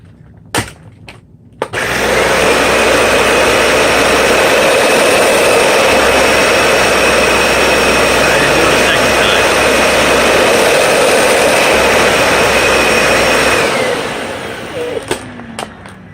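A Dyson DC65 upright vacuum runs steadily on carpet for about twelve seconds in two passes, its loud, even motor roar and high airflow whine starting abruptly and then fading as it powers down.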